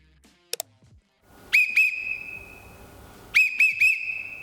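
A referee's whistle in a kila match signals a violation: two short, sharp blasts, a pause, then a quicker run of three short blasts, all loud and close with no voices.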